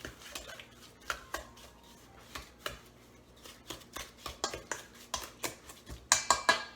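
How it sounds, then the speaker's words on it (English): A spoon beats butterscotch chip cookie dough in a bowl, producing a series of quiet, rhythmic clinks and scrapes against the bowl's sides, growing slightly louder and quicker toward the end. "take your spoon again and just start kind of whipping it together"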